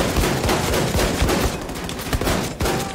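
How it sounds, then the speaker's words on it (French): Rapid automatic gunfire from a weapon in Wolfenstein II: The New Colossus, loud dense bursts of shots crackling continuously for a few seconds. "Ah, c'est méchant comme flingue, faut juste que je vise un peu mieux."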